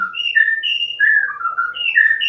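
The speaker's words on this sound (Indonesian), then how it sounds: "burung murai batu saya ini akan saya lombakan di esok hari" A white-rumped shama (murai batu) songbird kept for singing contests sings clear, close whistled phrases, sliding and warbling notes in quick succession with brief gaps, alone and fairly loud.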